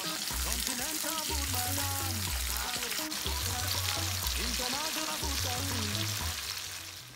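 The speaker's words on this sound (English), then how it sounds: "we'll add in our sliced up onions and allow it fry for about 5 minutes" Sliced onions fry in oil left from frying fish, giving a steady sizzling crackle throughout. A voice talks over it, and a low repeating hum runs underneath.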